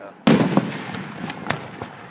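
Fireworks at an outdoor 100th birthday celebration burst with one sharp, loud boom that rolls into a long crackling tail. Several smaller pops follow, and people talk in the background.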